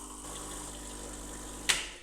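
A Gaggia Classic Pro espresso machine pushes water through its steam wand during descaling, giving a steady, close hiss and pump hum with a short, sharp burst near the end.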